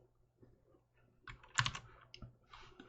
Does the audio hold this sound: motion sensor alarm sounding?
no